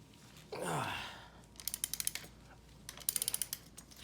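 A socket wrench and box wrench turning the axle bolts of a bicycle wheel, with a rapid series of short ratcheting clicks in two bursts, close and fairly quiet, following a brief rustle.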